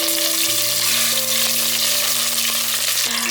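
Coriander stems and ginger slices stir-fry in oil in a stew pot, making a dense, steady sizzle throughout with a faint tonal hum underneath.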